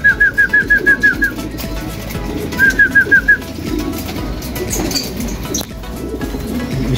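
Pigeons at a racing pigeon loft coo in two quick rhythmic bursts of repeated calls, close and clear, followed by softer rustling and faint wing movement against a low background murmur.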